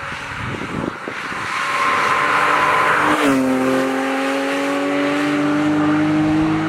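A Porsche GT3 on a race circuit, its engine note rising as it accelerates hard, then a loud sustained high-revving whine with shifting pitch, close and continuous, no voices.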